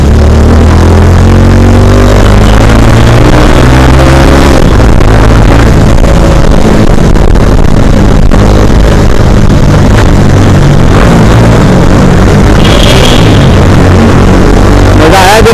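A 220 cc motorcycle engine revs loudly and up close, its deep, harmonic drone rising and falling over about fifteen seconds, with a brief higher whine near the end.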